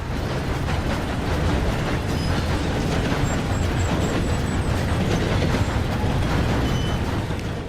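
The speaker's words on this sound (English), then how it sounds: "We then see the train stops." A passenger train is heard slowing to a stop, a steady loud rumble with rail noise and a faint high squeal of brakes running throughout.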